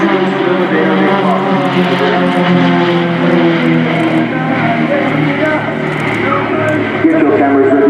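Propeller aircraft of the Royal Jordanian Falcons display team fly in formation at an air show, a loud, steady droning engine roar throughout, with an announcer talking over it.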